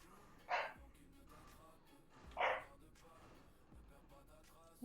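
A dog barks twice at a moderate distance, two short sharp yaps a couple of seconds apart, over faint room noise in a home setting.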